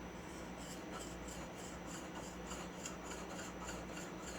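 Blade of an antique 1921 Stanley #40 scrub plane honed on a stone, a steady rhythmic scraping rasp of repeated back-and-forth strokes, close and fairly quiet, with no talking.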